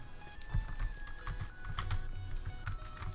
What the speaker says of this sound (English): I have to look down at the keyboard to see what I'm typing.